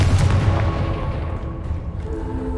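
A Confringo blasting spell goes off in the Hogwarts Legacy video game, a loud, booming explosion up front with a deep, rumbling low end that holds for a couple of seconds as it decays, with no voices over it.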